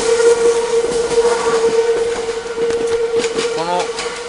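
A Meitetsu train departing Inuyama Station on the Inuyama Line, heard from a footbridge: a steady rumbling roar with a sustained tonal whine throughout and a brief rising tone near the end, loud and close.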